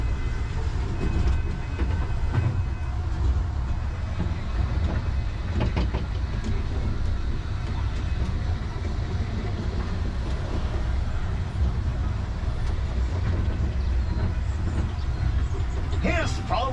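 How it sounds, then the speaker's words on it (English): Continuous low rumbling of a running toy train set with light clattering throughout, steady and fairly loud. "There's Ajay playing with his train set."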